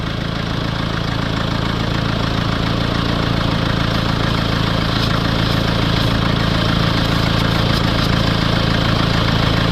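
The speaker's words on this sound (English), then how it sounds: "Now I'm just going to start the engine" A Mercedes E Class diesel engine with a blocked DPF runs at a steady idle, a continuous close, even rumble with no talking.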